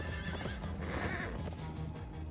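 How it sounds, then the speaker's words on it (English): A horse whinnies in a blocky Minecraft-style video game, a loud game neigh over hoof clip-clops with no talk. "Horses with saddles."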